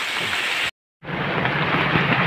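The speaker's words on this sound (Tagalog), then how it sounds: "Lakas ng ulan." A dense, steady roar of heavy rain that cuts out completely for a moment, then resumes just as strong.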